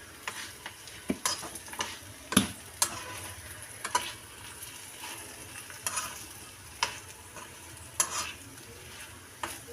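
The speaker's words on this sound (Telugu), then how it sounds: "అన్నీ కలుపుకోవాలి." Raw banana pieces coated with chili powder fry in a pan while being stirred, giving a soft continuous sizzle broken by sharp scraping and clicking spatula strokes at irregular intervals, close up and without speech.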